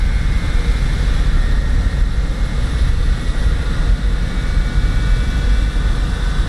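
An Antonov cargo aircraft's engine roars steadily at full power in Microsoft Flight Simulator, a loud, continuous broadband drone with a faint high whine that holds unchanged throughout, with no talk.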